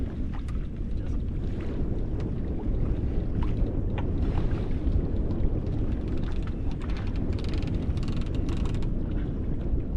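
Steady mechanical creaking and clicking under constant wind rumble outdoors, a sailboat winch ratcheting continuously near the microphone while hauling a dinghy onto the deck.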